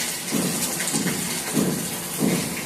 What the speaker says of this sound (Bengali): আমি যে ঠান্ডা হতে দিয়েছিলাম সেগুলো ঢেলে দিচ্ছি